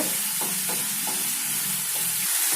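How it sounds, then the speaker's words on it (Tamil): Tomatoes fry and sizzle in a pan for bread upma, a steady close hiss with a few soft stirring scrapes and no voices. "டொமேட்டோ நல்லா ஃப்ரை பண்ணிகிட்டே இருக்கணும்"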